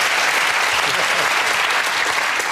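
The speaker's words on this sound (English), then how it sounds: "you deserve a round of applause for that" A studio audience at a comedy panel show breaks into loud, dense, continuous applause, close and sustained for the whole stretch, with some voices faintly mixed in.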